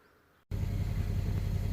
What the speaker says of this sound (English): Man, this is noisy. What a cold start.